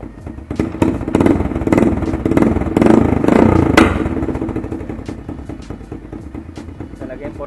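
A Honda CT125 motorcycle with a DIY exhaust revs close by with rough blips and crackling pops, loud, then settling back toward a lumpy idle.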